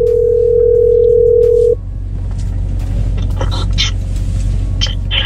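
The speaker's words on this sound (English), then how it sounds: "So let me call her up so I can get her on the phone." A steady telephone dial tone sounds loudly for under two seconds, then cuts off, leaving the low rumble of an idling car interior with a few faint clicks and rustles.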